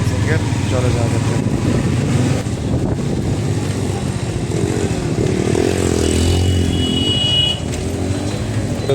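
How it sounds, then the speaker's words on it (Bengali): A motorcycle engine running steadily at close range, a constant rumbling drone throughout, with people talking over it. "আমার বাইকে আমি শুভকে নিয়ে নিয়েছি"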